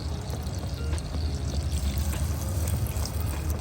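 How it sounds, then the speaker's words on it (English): Water pours steadily into a pot of potato soup containing butter, mashed potatoes and chicken cubes, a close continuous splashing trickle with no talk. "And I'm gonna add some water now."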